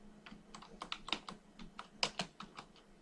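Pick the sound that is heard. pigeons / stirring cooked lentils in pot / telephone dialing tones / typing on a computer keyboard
typing on a computer keyboard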